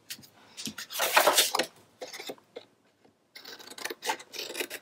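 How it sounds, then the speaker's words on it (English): Scissors snipping through chipboard while trimming a mini album base at a miter, a series of crisp rasping cuts up close in irregular bursts with short pauses between them. "I'm going to use my scissors."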